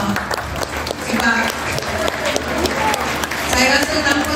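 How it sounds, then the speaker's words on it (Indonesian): Audience applause for a teacher at a retirement tribute ceremony, dense steady clapping that fills the space, with voices talking over it throughout. "tepukan untuk Cikgu Noor."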